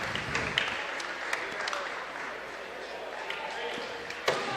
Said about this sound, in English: It's hard not to be clapping while we're doing this.